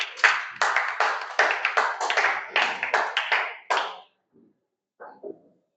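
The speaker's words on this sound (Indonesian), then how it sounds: "Oke, tepuk tangan dulu." A classroom of vocational high school hospitality students claps together in a lively, uneven burst of close hand claps lasting about four seconds, then a few scattered faint taps follow.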